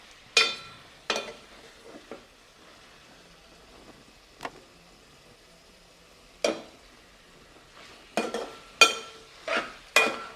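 Intermittent scraping and clinking of a spoon stirring gongura garlic chicken curry in an uncovered pan, in short bursts with quiet gaps between, close up and no talking.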